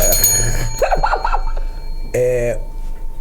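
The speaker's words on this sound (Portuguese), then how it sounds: "Bate o sino aqui, mulher" A bell in a podcast studio rings once with a bright, sustained metallic tone, following a stretch of people talking.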